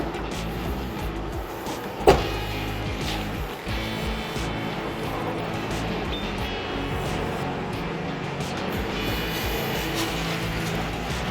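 An electric motor whirs under the bonnet of a white 2018 Land Rover Range Rover Sport, a low steady mechanical hum with a sharp click near the start and a soft thump a little later, close and moderately loud.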